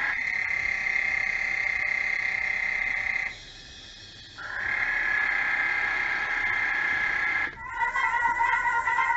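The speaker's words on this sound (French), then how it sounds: "Est allé chercher des chants de grenouilles et il les a ensuite compilés," Compiled frog songs: steady, loud layered croaking and trilling from many frogs, briefly dropping out midway, then resuming before shifting to a different chorus with stacked tones near the end.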